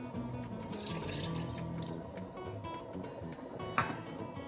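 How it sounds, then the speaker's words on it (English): Water trickles into a pan of homemade Spanish tomato sauce with paprika and sugar, a faint, steady splashing wash heard close but quietly, with one brief sharper clink near the end. "I'm going to add a bit of water."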